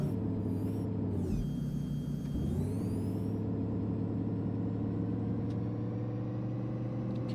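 Heavy truck engine drones steadily at low pitch while driving in American Truck Simulator, a constant near rumble with a brief shift in tone early on, no talk.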